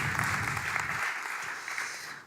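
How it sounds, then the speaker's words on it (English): Audience applause at a Dutch graphic design talk, steady clapping from a crowd that thins and fades out toward the end. "An applause for Anne Miltenburg."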